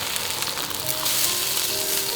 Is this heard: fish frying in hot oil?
yes